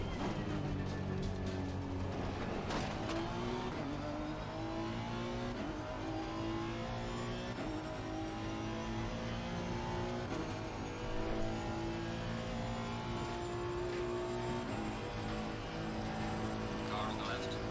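A Honda NSX race car at Bathurst in a racing video game, its engine droning and rising through revs in steady gear-change sweeps, with a voice speaking over the engine noise at times.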